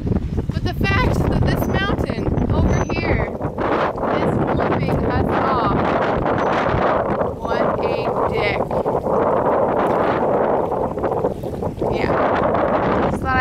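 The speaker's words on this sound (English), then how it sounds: "the gusts of wind happening right now" Strong wind gusts roar and buffet the microphone continuously on the John Day River, loud and rumbling, with faint voices and outdoor noise beneath.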